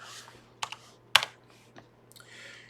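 A few scattered keystrokes on a computer keyboard as a --help command for the Clang C compiler is typed, sparse clicks with short gaps, close and fairly quiet over a low steady hum, no talking.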